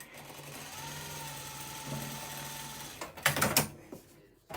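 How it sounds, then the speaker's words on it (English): A straight stitch sewing machine hums through a steady run of stitching for about three seconds, close and moderately loud, then stops with a few clunks and rattles as the fabric is handled. "It's a straight stitch machine, but it's amazing."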